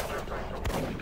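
Enemy shotgun fire in the video game Doom 3: a single heavy blast with a deep thump rises from a dense bed of game ambience and noise.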